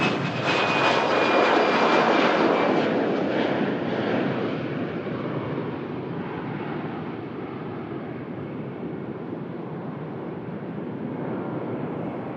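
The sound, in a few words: EasyJet airliner engines on takeoff roll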